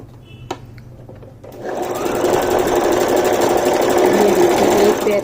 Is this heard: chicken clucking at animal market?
no